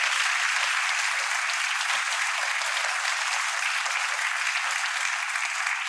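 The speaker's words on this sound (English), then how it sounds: "So how about a big round of applause for the Omans?" A seated audience gives a round of applause for the Omans, a steady, even wash of many hands clapping at once, holding level from start to finish with no voices above it.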